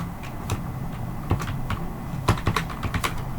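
Someone types on a computer keyboard while writing Java code, producing a close run of irregular clicking keystrokes with a few sharper taps over a steady background hum.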